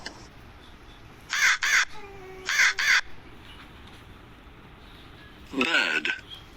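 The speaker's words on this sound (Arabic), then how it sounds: "crow" A crow caws loudly and up close in three harsh bursts, two double caws spaced about a second apart and then a longer final call, with quiet background between them.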